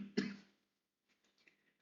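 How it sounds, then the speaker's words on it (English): A single sharp cough close to the mic, followed by faint rustling and quiet small sounds. "not sure am I choking or am I coughing?"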